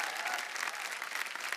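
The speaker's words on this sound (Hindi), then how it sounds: "जोरदार तालियां हो जाए भाई के लिए।" Enthusiastic audience applause at a motivational seminar, a dense continuous burst of many hands clapping, fairly close and even throughout.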